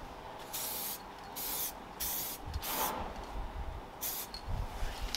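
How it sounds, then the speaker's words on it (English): Long hissing bursts of a spray can, several sprays with short pauses between, fairly close and steady. "hold the spray paint further away from it, maybe."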